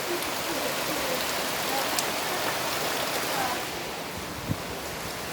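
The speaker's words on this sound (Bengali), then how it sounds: "দেখো ঝমঝম করে বৃষ্টি হচ্ছে, আর পুরো আকাশ অন্ধকার হয়ে আছে।" Heavy rain pours outside under a darkened sky, a dense, steady hiss of drops that eases slightly partway through, with one brief knock near the end and no voices.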